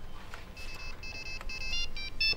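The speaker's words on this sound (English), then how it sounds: "the ringing tone, is that something you chose yourself" A mobile phone rings with a short chirpy tune of repeated high electronic notes, played twice and growing a little louder, with no voices.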